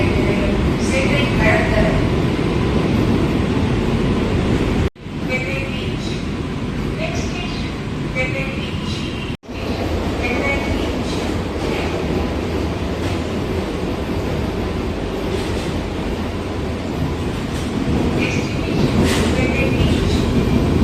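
A Chennai AC electric local train rumbles steadily along the track, loud and close from on board, with wheel clatter and occasional high squeals, while voices talk over it throughout.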